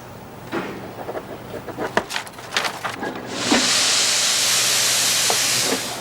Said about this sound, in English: I sort of like the shushy noise it makes when the steam comes out.